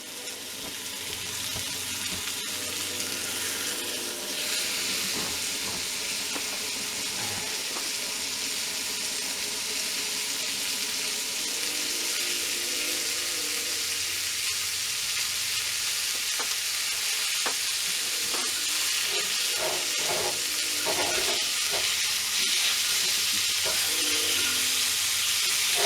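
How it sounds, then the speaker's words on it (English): Steady sizzling and crackling of bacon frying in a pan at an Adirondack lean-to campsite, continuous and close, with occasional clinks of utensils stirring. "Nothing like sizzling bacon in the morning."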